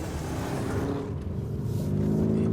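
A Lamborghini Urus, a 4x4 SUV with 800-odd newton metres of torque, accelerates hard off-road, its engine a steady dense roar that keeps building without a break.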